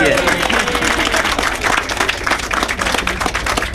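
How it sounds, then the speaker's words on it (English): Audience applause at an award ceremony as a department head is honoured, dense steady clapping throughout with voices and crowd noise mixed in. "so round of applause."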